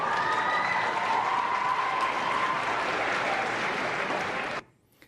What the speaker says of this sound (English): And they cheer.